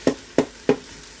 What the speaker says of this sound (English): I'm just going to mash that down a bit because I don't want whole tomatoes